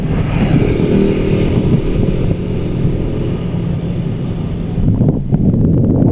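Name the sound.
Rusi Adventure X 150i scooter ridden at top speed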